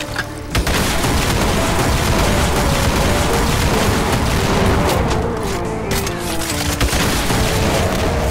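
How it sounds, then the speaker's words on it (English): Rockets explode in Doom 2 with the Project Brutality mod on MAP30, The Forgotten God: a dense, loud barrage of booming blasts that rumble almost without a break. "And just shoot rockets to that head."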